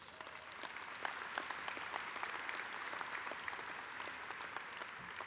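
Convention delegates at a union gathering give a steady, sustained round of applause, a dense wash of many hands clapping at an even level throughout, heard somewhat distant and alone.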